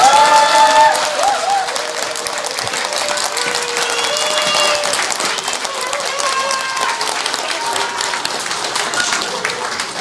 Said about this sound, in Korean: 그래서 우리가 우리끼리 박수 한번 쳐요